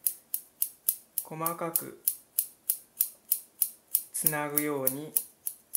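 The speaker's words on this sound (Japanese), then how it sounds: "そのままハサミの刃先を使って" The tips of hair scissors snip a client's bangs in a hair salon in Naha, Okinawa, with a crisp, even series of close snips at roughly three per second, while a person speaks briefly twice over them.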